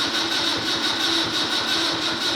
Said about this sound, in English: The float bowls are empty, so this might take a bit of cranking to get it to work.